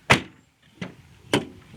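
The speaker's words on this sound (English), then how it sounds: "Got to shut the doors." Three solid thumps as pickup truck doors are pushed shut, one loud slam followed by two softer ones spaced under a second apart, close by with no talking.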